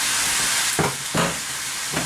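Ground beef frying in a skillet gives a continuous bright sizzle and hiss, broken by a few sharp bursts as the meat is broken up and stirred.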